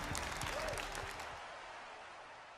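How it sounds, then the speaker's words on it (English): Audience applause for a FIFA 17 Ultimate Team Championship Series champion, a burst of clapping that gradually fades within a couple of seconds. "Let's have a round of applause for our champion."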